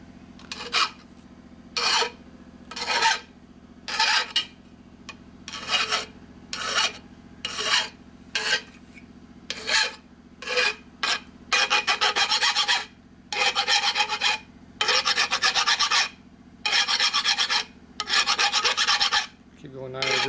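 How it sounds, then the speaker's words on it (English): A hand-held metal file cuts a 45-degree chamfer on a 1957 Harley panhead part, rasping in steady repeated strokes that grow longer and denser later on, close and clear with no talk. "I'm holding the file at 45 degrees. Which gives me a 45-degree chamfer."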